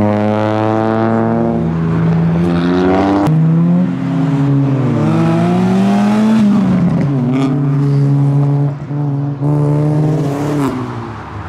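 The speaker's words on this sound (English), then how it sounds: "Turbo Civic." A turbocharged modified Honda Civic leaving a Japanese car meet accelerates hard, its loud engine note rising through the gears in rapid sweeps, with brief dips between shifts and the roar holding strong throughout.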